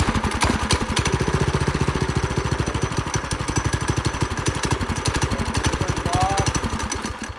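A small FRP GMB100 minibike engine fires up and runs with a loud, rapid, steady putter close by for several seconds before being shut off at the end.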